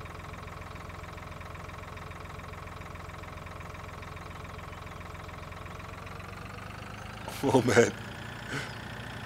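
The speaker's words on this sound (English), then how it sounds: "that little tractor we got there is pulling his load." A small tractor engine drones steadily while pulling a load in the video game Farming Simulator 2013, running evenly throughout with brief speech and a short burst of noise near the end.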